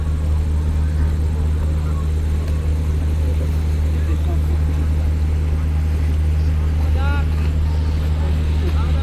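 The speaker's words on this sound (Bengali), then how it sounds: "তো দেখতে পাচ্ছেন এই হলো কর্ণফুলী 12 লঞ্চ" A steady low engine drone rumbles from the Karnafuli 12 passenger launch boat, close and continuous, with a brief horn-like tone near the end.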